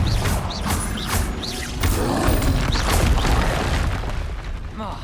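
A Confringo fire spell explodes in Hogwarts Legacy: loud booming bursts mixed with mechanical clanks, creaks and whooshing effects, repeated several times in quick succession amid busy game sound.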